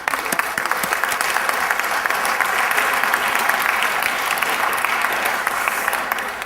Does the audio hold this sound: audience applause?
yes